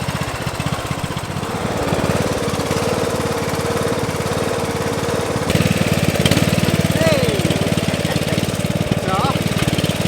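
A Murray ride-on lawn mower runs steadily up close, its engine droning and chattering as it mows down brambles and bushes, growing louder midway through.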